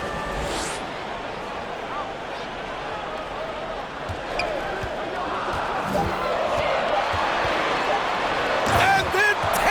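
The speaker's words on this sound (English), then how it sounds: "And then Tatum slams it in" Basketball slam dunk in an NBA 2K video game between the Suns and Celtics, with bouncing and a sharp rim hit amid steady arena crowd noise and commentary-like voices.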